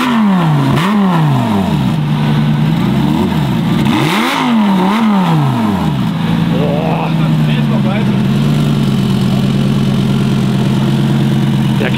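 A car engine is revved several times by throttle blips, its pitch sweeping up and falling back, then settling into a rough, loud idle with a steady low rumble.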